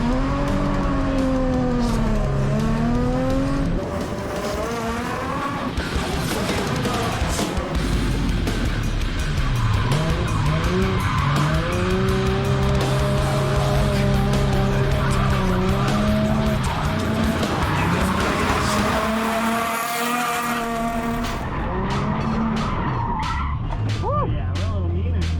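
A drift car skids through a drifting event, with long sweeping tire squeals rising and falling over a revving engine, several passes loud and close, and a voice talking over part of it.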